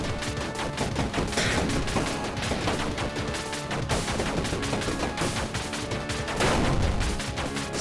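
Rapid laser gun fire in the video game Overpowered, a dense, continuous barrage of loud shots and impacts under a game soundtrack.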